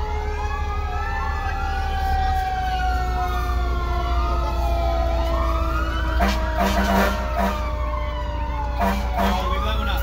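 A fire engine siren on a Christmas Santa escort to a tree lighting in Norway, Maine, wails steadily and loudly, with rising and falling sweeps over engine rumble and brief horn-like blasts near the end.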